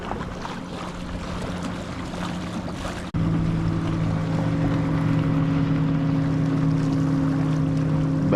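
A bass boat motors past on a lake, its engine droning at a distance before swelling into a louder, steady hum partway through, with some wind noise and no talk.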